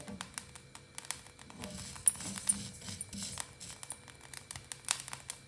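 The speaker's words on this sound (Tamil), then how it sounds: "இப்போ அரிசி படப்படன்னு பொரியிற சத்தம் கேட்குது பாருங்கள்." Faint, scattered crackles and pops of rice dry roasting in a pan for idli podi, irregular and soft with a light crinkling texture.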